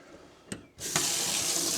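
Warm tap water runs into a measuring cup for bread dough: a short knock, then the faucet opens into a steady, close rushing stream that keeps going to the end.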